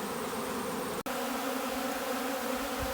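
Honeybees buzz densely around a beehive in early fall as robbing begins, a steady, close, continuous hum with a brief dropout near the start.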